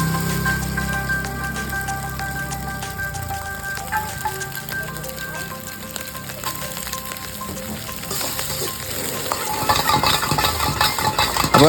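Chicken fried rice sizzles in a hot pan in a restaurant kitchen, frying loudly and steadily with metal utensils scraping and clinking, the stirring growing busier and louder toward the end, while steady tonal kitchen hum carries underneath.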